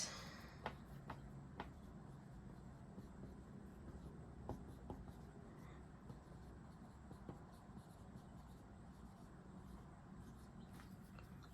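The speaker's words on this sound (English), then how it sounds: "you want to get your dry erase board, and you can write anything on it that you want" A marker writes on a small dry erase board. Faint squeaky strokes and light taps come in scattered short bursts over quiet room tone, with no voice.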